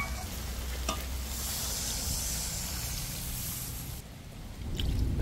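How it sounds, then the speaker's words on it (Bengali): Braised meat in a pan gives off a steady, close sizzle with stirring, then the hiss shifts and dips as water goes in, followed by renewed bubbling. "কষানো হয়ে গেছে মাংস, এবার জল দিই।"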